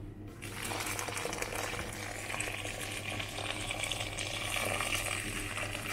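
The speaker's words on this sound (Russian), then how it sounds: "сейчас мы заливаем кипятком." Boiling water pours from a kettle over ears of milk-ripe corn in a pot, a continuous loud splashing, gurgling fill that runs steadily for several seconds with no talk.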